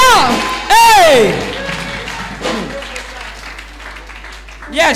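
A church congregation bursts into loud applause and cheering for Jesus, a dense wash of clapping that swells, then fades beneath a speaker's voice before rising again at the end.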